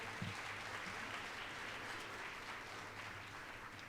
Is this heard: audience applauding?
yes